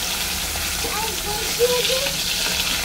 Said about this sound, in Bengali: তেল পুরো ভালো মতন গরম হয়ে গেছে। এবার আমি মাছ দিয়ে দিচ্ছি।